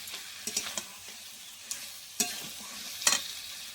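Katla fish heads and fried potatoes go into spice paste frying in a pan for muri ghonto, giving a soft steady sizzle broken by a few sharp spoon scrapes and clinks, close and fairly quiet, with no talk.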